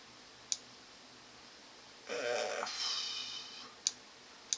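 Mouse clicks during Revit visibility graphics settings work: a single sharp click, a longer burst of quieter clicking activity, then a few more isolated clicks, close and fairly faint with no talking.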